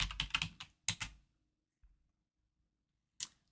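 A handful of quick, crisp keystrokes tap on a computer keyboard while typing a search, followed by quiet and one last isolated key press.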